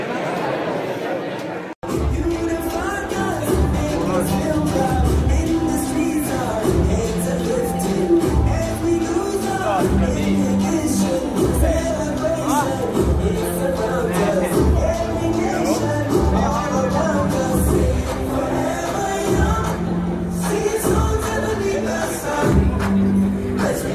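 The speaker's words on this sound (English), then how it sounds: "And it's a lot of crowd in here." Dense crowd chatter fills a packed banquet hall at the Finnmarksløpet 2023 sled dog race, a steady, close babble of many voices that runs without pause under a rhythmic, music-like pulse.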